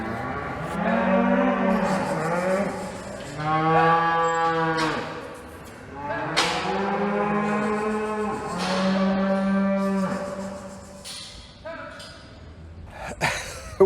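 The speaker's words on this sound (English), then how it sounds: "It's a cattle market." Several cattle moo loudly and repeatedly at a cattle market in the Scottish Borders, long drawn-out bellows overlapping one another, with a bustling background and occasional clatter.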